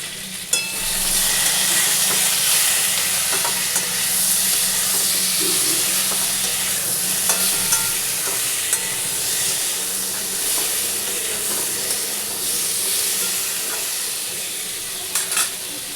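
Potato and pointed gourd frying in a pan with coconut paste, giving a loud, steady sizzle and hiss with occasional stirring scrapes, continuous from start to finish with no voices.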